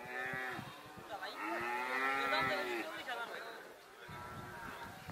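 A red Jersey-cross calf, about eight to ten months old, moos at the Ashulia cattle market in a long, loud, wavering call up close, with a shorter bellow near the end and people talking in the background.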